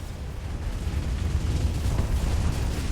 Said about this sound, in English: Ah, look at the explosions.